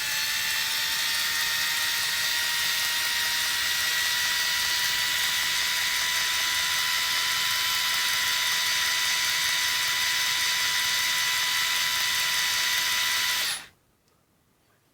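A Bosch GO 3.0 3.6V cordless screwdriver runs in reverse with a steady, high motor whine at close range, holding constant until it cuts off abruptly near the end.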